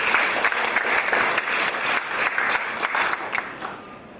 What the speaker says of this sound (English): A clap for Mike as he comes to share with us.